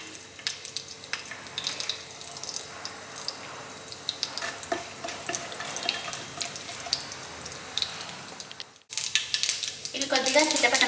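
Mustard seeds spluttering in hot oil for a beetroot fry: a dense, close crackle of sharp little pops over a soft sizzle, broken by a brief gap and then a louder burst of hissing at the end.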